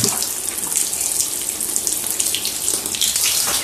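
Water gushes steadily from a tap onto a garden spade, a loud, close, continuous splashing rush with no speech over it.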